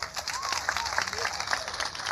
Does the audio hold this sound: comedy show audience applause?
yes